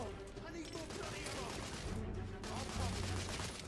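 Dense gunfire from a third-person shooter, The Order: 1886, in continuous rapid bursts that stay loud throughout a short stretch of game combat.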